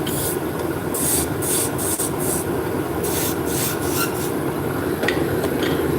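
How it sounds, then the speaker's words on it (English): A V-shaped beading tool works along wood to set in beads, giving repeated scraping and rasping strokes at an even rhythm, close and moderately loud with no speech. "Now we're going to use a beading tool, which is just a V shape, and just set in the beads."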